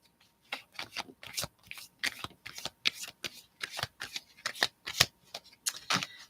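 Oracle cards shuffled by hand for a reading produce a steady series of crisp, rapid riffling bursts in an even rhythm, close and clear with no speech over them.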